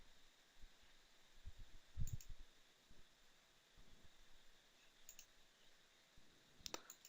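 Faint, sparse computer mouse clicks during software installation on a server, a few isolated soft clicks spread out over a quiet background hiss.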